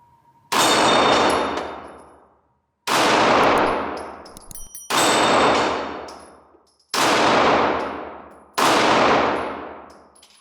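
FN 509 9mm pistol fired five times at steel flip targets, each shot a loud sharp crack with a metallic clang and a long ringing decay, spaced about two seconds apart.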